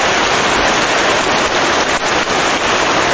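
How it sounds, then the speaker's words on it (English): Heavy rain drums steadily on the roof of a shelter on a deserted island, a loud, dense, continuous hiss with faint scattered patters and no voices. "So, well protected, I waited for the rain to stop"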